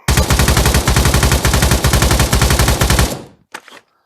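Rapid full-auto rifle fire in the VR shooter Pavlov Shack, a loud, steady stream of close shots for about three seconds, then a sudden stop followed by a brief mechanical clatter.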